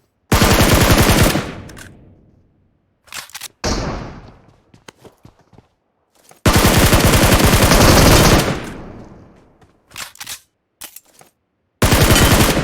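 Automatic gunfire in PUBG Mobile, loud close bursts of rapid shots with several pauses, a few sharp single cracks and echoing tails between the volleys.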